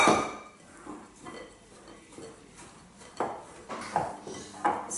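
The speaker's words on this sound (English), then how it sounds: "So I'm going to add the coconut oil and maple syrup to my dry ingredients. I'm going to mix these together." Coconut oil and maple syrup are stirred into dry ingredients in a bowl, giving soft scraping and mixing sounds with intermittent clinks of a utensil against the bowl, close and quiet.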